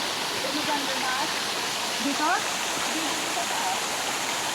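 A waterfall on a jungle stream trek, its steady broadband rush of falling water filling the whole scene, with people talking and calling out over it.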